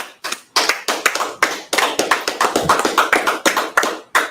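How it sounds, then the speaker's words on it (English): Several people clap together in a quick, fairly steady rhythm, sharp close claps following one after another for a few seconds. "let's clap it up"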